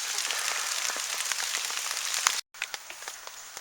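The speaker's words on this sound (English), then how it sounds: "and wait for the rain to stop" Rain drums steadily on an umbrella and tarp sheltering gear at a hammock camp, a constant dense patter with scattered louder drops and a momentary dropout near the end.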